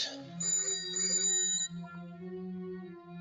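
An electronic telephone ringtone at a police station chimes in a sustained melodic pattern, clear and fairly close, with no voices.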